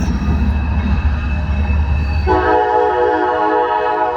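A loud train rumbles past in Atlantic City, then a sustained multi-tone horn blasts over the steady roar of the wheels.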